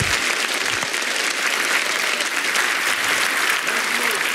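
A church congregation breaks into loud, dense, continuous applause during a sermon, a steady wash of many clapping hands with no voices standing out.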